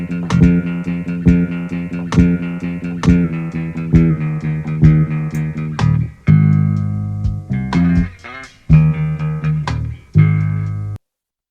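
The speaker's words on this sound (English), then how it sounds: "it's been pitched down by -2. So it sounds like this." The sample pitched down two steps plays as loud, close music, with repeated chord phrases, punchy attacks, and brief gaps between sections before it ends abruptly.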